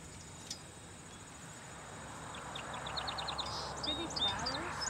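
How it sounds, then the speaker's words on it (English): Birds sing outdoors in a field, a faint series of rapid chirps growing busier toward the end over soft rustling and low ambient noise. "There's birds out here."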